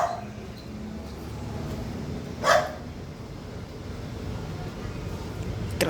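A dog gives a single brief bark mid-distance over a steady outdoor background, with no one speaking.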